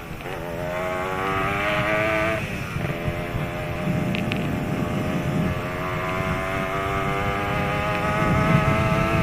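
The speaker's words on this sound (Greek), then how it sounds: "Καταλαβαίνετε ότι είχα γκάζι στο χέρι μου και ότι το έστρωγα το μηχανάκι." A motorcycle engine hums steadily while riding on a road trip toward Aigaleo, its throttle held and gently varied, with wind and road noise underneath.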